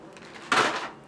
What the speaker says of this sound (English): let me put them in my eyelash drawer